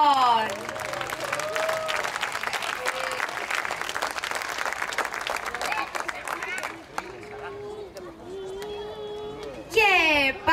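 Audience applause for kindergarten children performing English songs at a school event, sustained steady clapping from a crowd with cheering voices mixed in and brief talk near the end.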